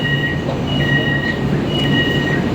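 Interior of a moving urban rail train between Sentul Barat and Titiwangsa, a steady loud rumble with faint high tonal whines rising and fading, no voices.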